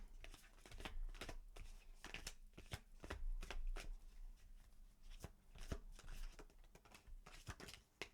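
Tarot cards are shuffled nearby in bursts of crisp riffles and soft slaps, irregular and moderately loud, with no one speaking.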